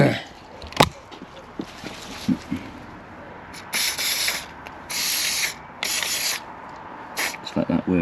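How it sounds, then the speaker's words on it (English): Several short bursts of aerosol spray hiss close by onto the dynamo commutator of a BSA A10 Super Rocket motorcycle, some longer and some quick, amid scattered clicks and handling noises. "We'll see if I spray that now."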